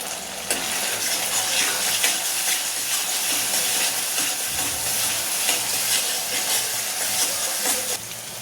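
Red chili powder, chole masala, black masala and turmeric frying in hot oil for chole, a loud, continuous close-up hiss and sizzle with steady stirring.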